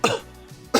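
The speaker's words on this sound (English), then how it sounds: "I do seem to have a bad cough all of a sudden" Two sharp, staged coughs from a man, one at the start and one at the end, separated by a short quiet pause.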